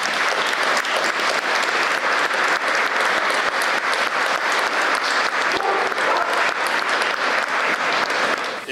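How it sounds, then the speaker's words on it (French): Sustained, dense applause from an audience at a Saint Anthony confraternity gathering after a mass, steady and full throughout with no gaps, tapering only at the very end. "Donc je vais vous demander de l'applaudir."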